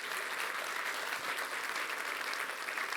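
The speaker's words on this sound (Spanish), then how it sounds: "Dele un aplauso al Señor." Steady applause from a church congregation during a Spanish-language worship service, a dense even wash of clapping that carries on without a break.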